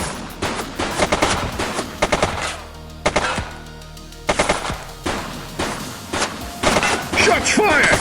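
Rapid machine-gun bursts and single gunshots ring out in a police video game, loud and close, coming in clustered volleys with short pauses between them while voices call out over the shooting.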